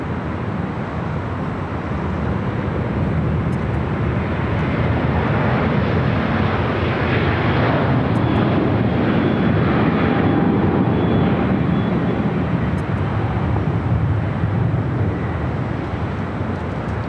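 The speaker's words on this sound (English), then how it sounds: "we got that carbon fiber Airbus A350-900 rolling down at 25 at right" A carbon fiber Airbus A350-900 rolls down runway 25 right at LAX, a steady, loud broadband jet roar that holds evenly throughout, with wind buffeting the microphone.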